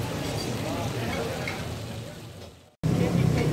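Lamb karahi meat (Peshawari charsi dumba karahi) fries in a wok with a steady, dense sizzle that cuts out for a moment, then comes back slightly louder and close.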